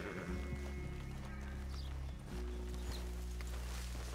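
Horses in Red Dead Redemption 2 move with a steady clip-clop of hooves under a loud, low, sustained musical drone that nearly buries them.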